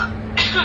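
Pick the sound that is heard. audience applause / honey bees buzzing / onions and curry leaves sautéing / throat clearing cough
throat clearing cough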